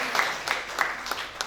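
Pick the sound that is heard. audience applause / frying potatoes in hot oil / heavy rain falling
audience applause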